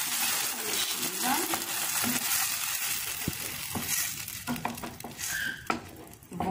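Tomato sauce poured into a hot pan for creamy pasta with Tuscan sausage, sizzling and crackling with scraping stirs and occasional utensil clinks against the pan.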